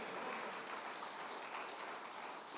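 A congregation at a church service claps in a dense, continuous wash of applause, even and fairly soft, with no voices over it.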